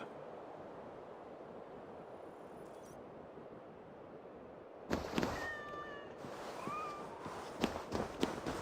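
Cats in Assassin's Creed Valhalla give several short, clear meows over a soft bed of wind and surf, following a quiet stretch of steady outdoor ambience.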